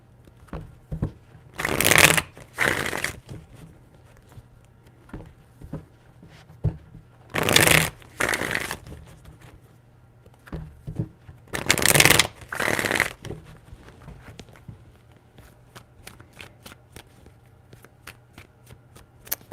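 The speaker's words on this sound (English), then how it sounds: "3 shuffles." Tarot cards being shuffled in three separate bursts, each a brisk riffling flutter of a couple of seconds, close and clear with quiet pauses and small handling sounds between.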